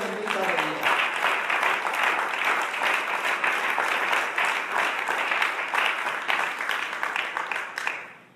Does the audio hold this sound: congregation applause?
yes